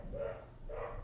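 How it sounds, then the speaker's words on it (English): A dog barks twice from upstairs in a house, two short muffled woofs heard at a distance and fairly faint, with no talking during them. "my dog is going crazy upstairs"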